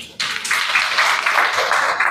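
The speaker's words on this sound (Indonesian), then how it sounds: "Boleh berikan tepuk tangan kepada diri masing-masing." Attendees of a funeral-management course in a mosque in Gombak break into sudden close applause for themselves, giving a short burst of loud, dense clapping.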